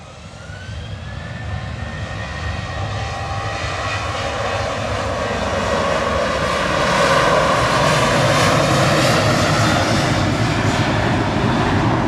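Twin jet engines of a Ryanair Boeing 737-800 whine and hum at an airport during pushback, tonal whines rising and shifting over a loud, gradually building roar.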